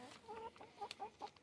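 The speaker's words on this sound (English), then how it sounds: "There's a hen right here." A hen clucks close by in a few short, separate bursts, with a quiet pause between the calls.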